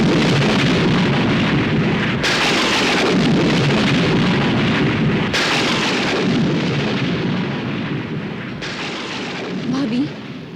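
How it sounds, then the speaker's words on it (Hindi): A thunderstorm roars in a dramatic mythological setting, with heavy, steady rain hissing continuously and deep thunder rumbling and cracking in several loud surges, dense and close throughout with no clear voices. "लगता है तूफान आने वाला है"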